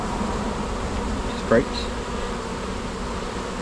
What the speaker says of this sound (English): And we have bees all over here,